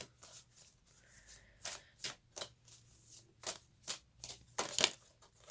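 Oracle cards are shuffled and pulled, with a quiet, rhythmic series of soft riffling bursts roughly every half second and a louder flutter near the end.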